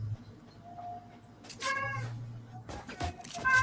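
A cat meows a few times in a room, short tonal calls rising over a low steady hum, with a neighbor singing somewhere in the background.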